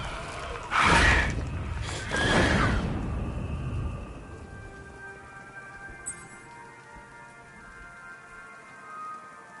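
Steady video-game rain patters throughout, with two loud whooshing gusts early on and a faint click partway through; no voices. From Batman: Arkham Knight.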